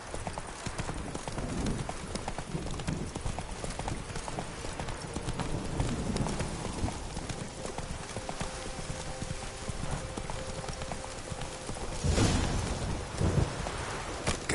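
Horse hooves clip-clopping steadily as Roach gallops in the Witcher 3 Blood and Wine game, with rain and rolling thunder filling the background and a brief louder burst near the end.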